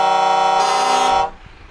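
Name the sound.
truck air horn, Mercedes Actros or Scania R500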